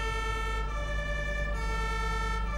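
A continuous ambulance siren wails loud and close in the video game Emergency Ambulance Simulator, its tone holding steady without pause and no voices over it.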